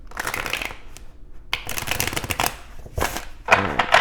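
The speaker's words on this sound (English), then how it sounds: "Let's go ahead and get one more shuffle here for you" Tarot and oracle cards being shuffled by hand, the Tarot Muka deck with the Angels and Ancestors Oracle deck; close, crisp riffling bursts separated by brief pauses, with quick flicking taps toward the end.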